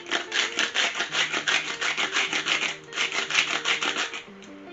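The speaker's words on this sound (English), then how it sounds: "Wooden spoon or a spatula. Just get all these ingredients incorporated in" Wooden spoon or spatula stirring prawn linguine sauce with tomato and chilli in a pan, a steady rhythmic scraping and rubbing, close and continuous with regular strokes.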